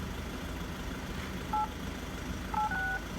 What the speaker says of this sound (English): the dial-in tones which you can hear in the background